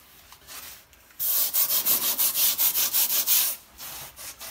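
Brass tip brush scrubbing a greasy tile countertop, fast rhythmic back-and-forth bristle strokes, close and loud for about three seconds after a quiet start.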